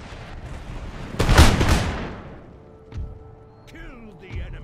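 Musket volley fire in the video game Empire Total War, one loud crackling burst of massed shots that rolls away into a long fading rumble, followed by scattered distant pops and faint battlefield voices.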